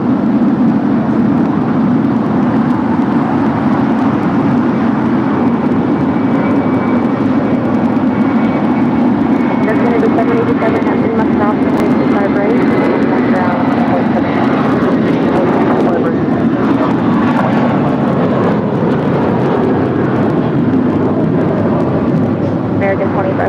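An American Airlines Airbus A319, originally delivered to America West Airlines in December 2000, departs on runway 25 right at LAX. Its heavy jet roar holds steady and loud from start to end, with a faint voice underneath.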